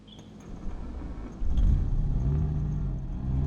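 Car engine rumbles low and steady while driving on a road toward a village at dusk, swelling slightly louder midway and holding a continuous drone.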